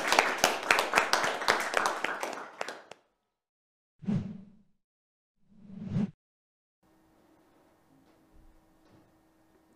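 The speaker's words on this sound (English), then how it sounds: "I think we should give Jonathan a round of applause" A tech talk audience applauds after a presentation on a single-tasking DOS for Arm microcontrollers, a short burst of crowd clapping for about three seconds, followed by two soft whooshing sounds and near silence.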